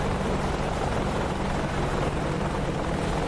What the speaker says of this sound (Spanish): Sigo escuchando el audio de mi helicóptero.